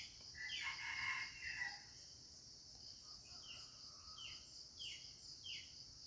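An escaped wild junglefowl rooster crows from a distance, its calls faint and repeated against a steady backdrop of buzzing insects and other bird calls outdoors.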